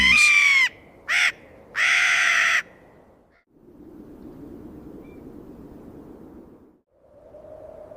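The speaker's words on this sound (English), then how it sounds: "The jay registers the predator and screams." A harsh bird cries out three times in quick succession, loud and close, followed by a soft, windy hiss that swells and fades.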